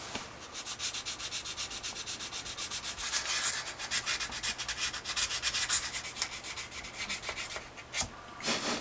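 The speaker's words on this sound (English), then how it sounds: "just go ahead and sand it down until you've got back to a nice smooth plastic surface" Sandpaper works filled putty back to smooth plastic on a Revell USS Voyager scale model, with quick rhythmic rubbing strokes, steady and close, and no talking.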